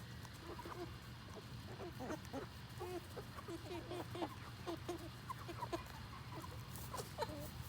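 Backyard chickens near a freshly painted coop cluck steadily while pecking at treats, a busy, continuous chatter of several birds at moderate volume.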